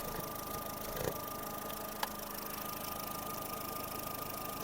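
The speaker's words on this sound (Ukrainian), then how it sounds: "Двигун працює дуже чудово." A Skoda Fabia 1.4 MPI petrol engine idles steadily at close range, a continuous low rumble with a couple of faint clicks, and no voices.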